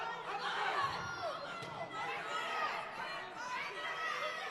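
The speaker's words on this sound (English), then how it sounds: "Crowd's getting into it out here, guys." Crowd chatter and cheering fill a boxing tournament hall in North Platte, Nebraska, a steady dense murmur of many voices with brief rises of excitement, close and continuous throughout.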